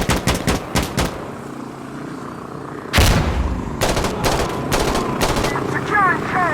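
Gunfire rings out in the video game Insurgency Sandstorm, with rapid bursts of loud close shots, a pause, then a heavy blast followed by more sharp volleys, while voices call out over the shooting.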